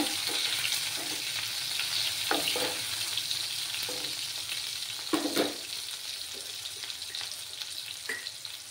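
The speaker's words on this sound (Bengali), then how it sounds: "টমেটো কুচিটা দিয়ে দিলাম। দিয়ে ভালোভাবে ফ্রাই করে নিতে হবে।" Chopped tomato fries in a pan with a constant sizzling hiss, while a spatula scrapes and knocks against the pan every second or so; no talking.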